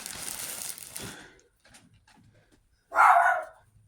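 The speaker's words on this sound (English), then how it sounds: "What are you barking at?" A pet dog barks indoors, one short burst near the end following quieter rustling and handling sounds of stuffing being worked into a sewn bunny head.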